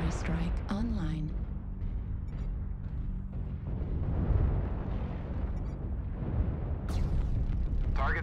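A video-game artillery strike around a Timber Wolf mech rolls in as a continuous, booming rumble of explosions with sharper blasts near the end. A synthetic voice speaks briefly at the start.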